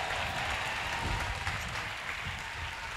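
A church congregation breaks into steady, dense applause, a continuous wash of many hands clapping with no break.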